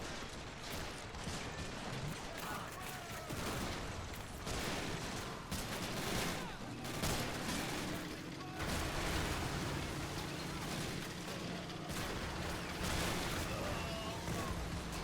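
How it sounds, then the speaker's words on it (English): Dense battle din from Men of War: Assault Squad, the Battle of Foy: continuous gunfire and explosions blend into a loud, steady wartime roar, with shouting voices mixed in throughout. "we can only hear the shouting and the shooting"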